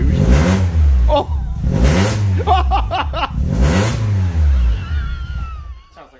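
A Citroen AX GT engine is revved hard in a series of loud, close blips that rise and fall, with a tinny exhaust rasp. Excited voices can be heard between the revs.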